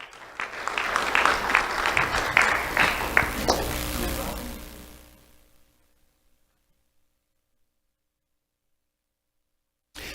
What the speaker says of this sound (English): Let's have a round of applause for Jalea Caro Liberata